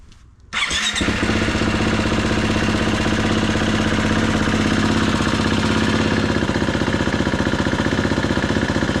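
A 2019 Husqvarna FE350 motorcycle starts up after a fresh oil change and settles into a steady, loud, close idle, its engine chugging continuously with no talk over it.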